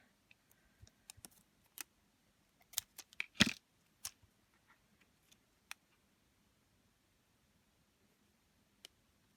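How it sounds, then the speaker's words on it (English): A handful of crisp snips of non-stick scissors cutting heat resistant tape, then a quick run of cuts close by, with faint ticking sounds and a long quiet stretch afterward. "I am cutting this tape with non-stick scissors."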